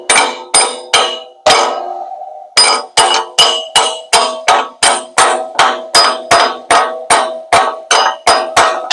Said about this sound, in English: Who's hitting something with the side of a hammer?